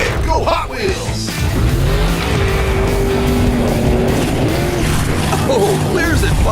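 Hot Wheels monster trucks race and jump in a toy-style arena contest, engines droning and revving continuously at close range under steady background noise, with voices talking over much of it.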